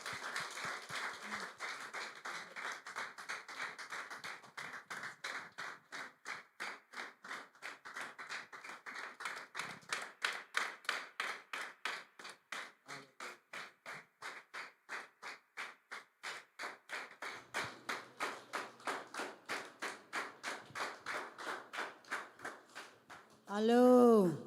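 A congregation at a Tuesday worship service claps hands in a steady, even rhythm for a song, the sharp claps running continuously and fairly loud with a faint background murmur.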